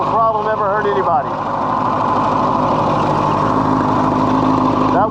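A 40-year-old motorcycle engine idles with a low, steady rumble, its pitch rising briefly near the start and again at the end as the throttle is blipped, close and loud.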